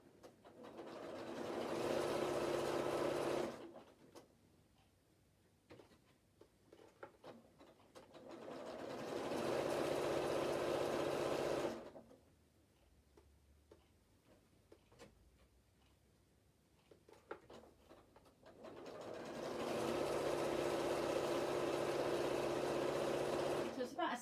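A sewing machine stitches a 1 centimetre seam in three sustained runs of steady whirring, each several seconds long, separated by quieter pauses filled with faint ticking and handling.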